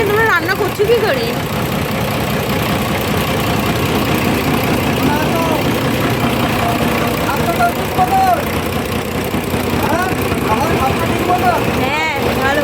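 A boat engine idles steadily through the whole stretch, a continuous low rumble with chatter from people on board in the Sundarbans sounding over it.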